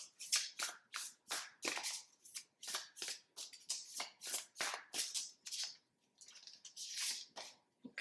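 A Moonology oracle card deck being shuffled, with steady, rhythmic riffling bursts repeating close up and no talking.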